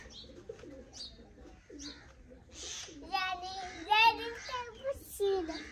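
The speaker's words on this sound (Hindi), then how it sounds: "कबूतर खुद नहीं आ रहे थे" Pigeons coo repeatedly at close range in a village courtyard in Pakistan's Punjab, their soft, throaty calls rising and falling while children's voices chatter around them.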